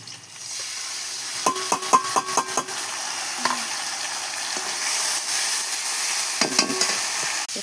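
Onion and spices frying in a pan for a fish curry, a continuous sizzle broken by a run of sharp metallic clinks and scrapes from stirring, close and without voices.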